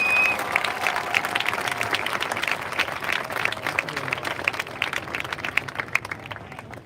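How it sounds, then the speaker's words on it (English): An audience at a fifth-grade promotion ceremony applauds class 5C, steady dense clapping of a mid-sized crowd that carries on evenly for several seconds, with murmured voices mixed in. "Round of applause for 5C, please."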